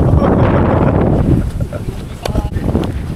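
Strong wind buffets the microphone beside the Pampanga River during a cold, stormy fishing outing, a heavy low rumble that eases after about a second, with a muffled voice underneath.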